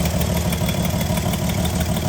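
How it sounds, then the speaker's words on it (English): A car engine idles before being shut off, a loud, steady, even rumble that continues unchanged through the whole stretch, with no one talking. "watch it kill the engine"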